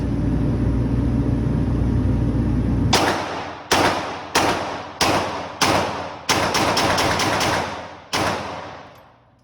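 Pistol fire at a shooting range, about ten loud sharp shots with ringing decay: a few spaced slowly apart, then a quick burst and one final shot, after a steady engine-like rumble at the start.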